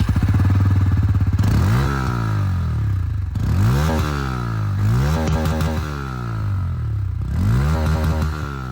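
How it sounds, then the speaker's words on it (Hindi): A Bajaj Pulsar N160 or Yamaha MT-15 V2 motorcycle engine idles loudly close by, then revs repeatedly in rising and falling bursts, its exhaust rumbling deep between each blip. "दोनों ही बाइक की जो एग्जॉस्ट साउंड है वो भी मैं आप लोगों को सुना दूं।"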